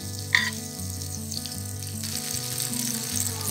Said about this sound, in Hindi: मक्खन थोड़ा सा मिल्ट हो जाए,